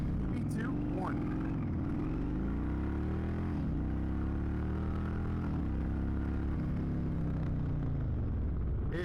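An Indian Chieftain motorcycle accelerates hard, its big engine giving a loud, deep rumbling roar with rising and falling pitch across several gear changes, close and continuous throughout.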